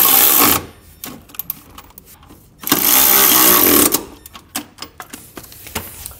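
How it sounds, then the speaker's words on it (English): A ratchet with a 13mm socket snugs up nerf bar brackets on a 2023 GMC Sierra 3500, with two loud bursts of rapid mechanical whirring and clicks separated by quieter tool handling and clanks. "I'm going to take a 13mm socket and I'm going to start tightening the brackets first."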